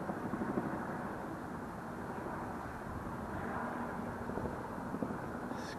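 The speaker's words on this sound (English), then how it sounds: "I hear some helicopter action over here, but I don't see it." A helicopter drones steadily from somewhere unseen above a Brooklyn waterway near the Brooklyn Bridge, a continuous broad rumble with a faint rotor throb, moderately distant and unbroken for several seconds.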